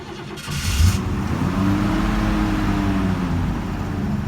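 A small carbureted engine, freshly adjusted and running for the first time of the season, revs up after a brief start and holds a loud, steady, slightly uneven idle-to-mid rev throughout.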